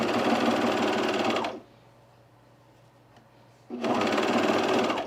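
A sewing machine stitches a seam on a pin tuck sleeveless top, running steadily up close for about a second and a half, pausing for two seconds, then starting again.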